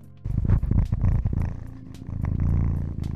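A close, rumbling purr vibrates steadily in rhythmic pulses, loud and near, with no talking.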